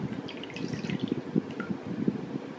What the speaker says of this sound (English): my lye has been sitting overnight, but it has a little bit of floaters in it, so I'm just pouring it through here